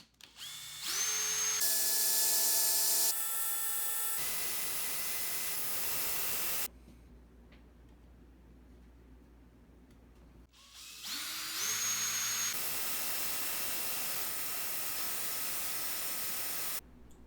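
A rotary power tool whines loudly as a capacitor part from an antique Sony 6RC-23 AM clock radio is sanded with grit, in two long bursts with a quiet pause between them.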